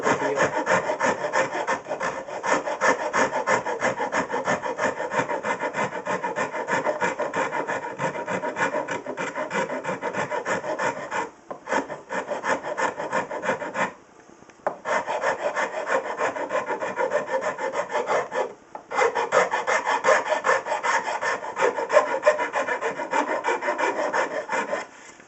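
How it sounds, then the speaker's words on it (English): A wooden cigar box guitar neck heel being tapered with a hand file, steady rhythmic rasping strokes close up, continuous for most of the stretch with two brief pauses, no talking. "I'm not going to stand here and video the entire process of filing this down"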